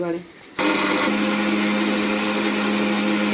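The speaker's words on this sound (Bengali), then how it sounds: "আদা আর রসুনটাকে একবারেই বেটে নিয়েছি একসাথে।" An electric blender or mixer grinder grinds ginger and garlic into a paste in a home kitchen, starting abruptly after a brief quiet moment and then whirring loudly and steadily.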